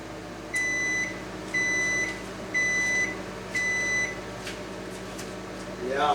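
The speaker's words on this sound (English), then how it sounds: "the microwave beeps" A microwave oven steaming corn gives four evenly spaced loud electronic beeps, each lasting about half a second, over a steady low hum from the running appliance.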